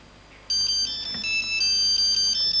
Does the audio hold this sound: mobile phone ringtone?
yes